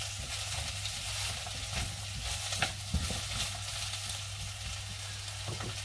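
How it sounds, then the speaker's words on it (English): Steady, close sizzling of cauliflower and other vegetables frying in hot oil for soup, a continuous crackle with occasional small pops and no talking. "I'm going to leave those to sizzle and seal for a couple of minutes"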